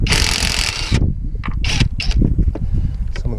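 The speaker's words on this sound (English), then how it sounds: "We can remove the upper bolts." Ratchet work loosening the upper bolts on a car's rear catalytic converter: a loud broadband burst of mechanical noise for the first second, then a series of short, close clicking and rasping bursts.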